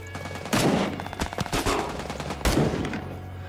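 Gunfire in the game Rising Storm 2: Vietnam during urban fighting in Hue City, with loud close bursts of automatic fire and sharp single shots in rapid succession.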